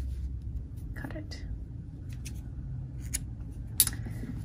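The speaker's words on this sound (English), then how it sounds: "pull the yarn through, and cut it." Scissors snip through yarn while finishing a crocheted cat ear beanie, giving a few quick, faint cuts over soft background noise and low hum, with one sharper snip near the end.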